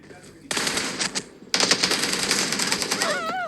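Video game gunfire sounds in two rapid automatic bursts, close and loud, with a short pause between them and a tinny electronic warble near the end.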